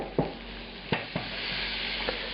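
Butter hits a hot pan after browned chicken for chicken marsala, giving a close, even sizzle with a few sharp clacks of a utensil against the pan.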